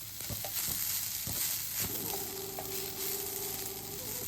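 Masala frying in coconut oil in a pan, a soft continuous sizzle with stirring scrapes, a few clicks at first and then a low steady hum joining it, fairly quiet throughout.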